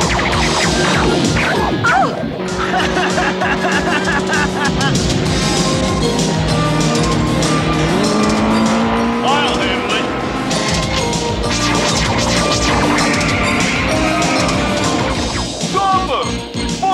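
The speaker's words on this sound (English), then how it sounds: "No one could survive that crash." A cartoon car crash rings out as a loud, dense run of smashing and crashing impacts with metallic clatter, layered with dramatic music throughout.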